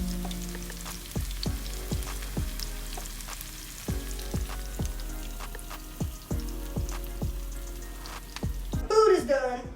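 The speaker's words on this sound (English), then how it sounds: "We are sauteing the onions" Onions sauté in a pan, a steady sizzle running under a series of regular knocking, tonal thumps, with a brief voice at the very end.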